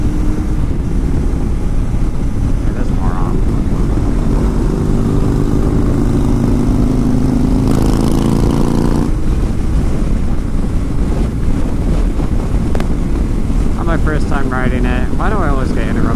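A Kawasaki street motorcycle out on a test ride, with steady wind buffeting the microphone over a low engine drone that continues without a break.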